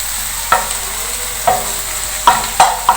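Onions spread out and frying in a pan, with steady soft sizzle and occasional sharp scrape-and-stir strokes of a utensil at irregular intervals, close and clear with no talking.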